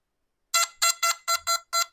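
A metal detector gives six sharp electronic beeps for a silver ring, repeating at a steady pace, bright and buzzy, each trailing off briefly, heard up close in otherwise silent surroundings.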